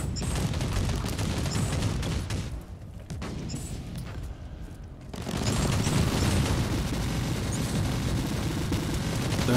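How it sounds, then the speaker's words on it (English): A tarantula turret in Warhammer 40k Inquisitor Martyr fires dense, rapid bursts with booming impacts. The barrage drops off briefly in the middle, then resumes at full loudness. "There was the tarantula turret."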